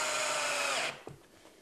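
A power drill drives 3/4 inch pan head screws into L brackets while installing shelving towers. Steady, loud whirring runs for nearly a second, then cuts off, followed by a few faint knocks and handling sounds.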